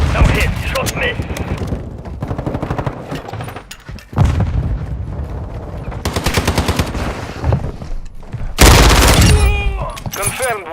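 Loud bursts of automatic 9mm gunfire from an ISO submachine gun in a shooter game on the La Casa map, rapid rattling volleys separated by short pauses, with in-game voice callouts between them.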